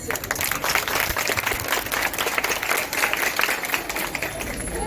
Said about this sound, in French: Faisons place à Stéoslam et Canon. Sur vos applaudissements.